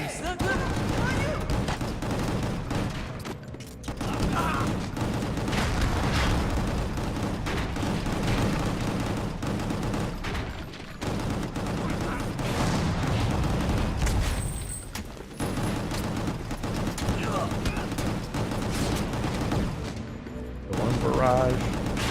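A dense barrage of rapid gunfire and booms in GunGrave: G.O.R.E pounds almost without pause, with short lulls, while a voice talks over the shooting at points.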